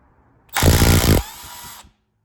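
A Milwaukee 2564-20 right angle impact wrench on a vehicle in a repair shop gives one loud burst of rapid hammering, then runs freely for a moment before stopping, with no talk.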